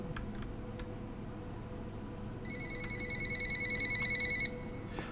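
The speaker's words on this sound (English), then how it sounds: "Phone call." Electronic telephone ringing in the puzzle game Recursive Ruin, sustained ringing tones from about two and a half seconds onward over a droning ambient background, with faint ticks earlier.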